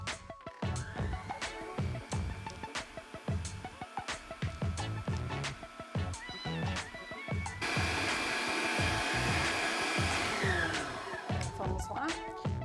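An electric mixer whips sponge-style cake batter, a whirring motor with rhythmic thumps and clatter of beaters against the bowl, steady and close, rising to a smoother drone toward the end.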